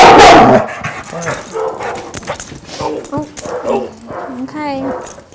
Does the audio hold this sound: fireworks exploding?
no